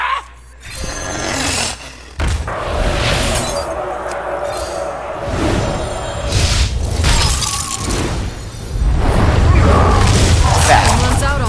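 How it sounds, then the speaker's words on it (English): Fireball spell cast in Hearthstone, heard as a loud whooshing, roaring burst with booming and shattering impacts, followed by crackling and clinking game effects; a voice talks over parts of it. "I just Fireball him"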